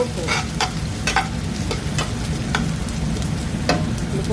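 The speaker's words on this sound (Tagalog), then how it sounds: "Lutuin lang natin ang sibuyas, bawang," Onion, garlic and ginger fry in a pan with a steady sizzle, and a spoon stirs them in sharp scraping strokes at an uneven pace.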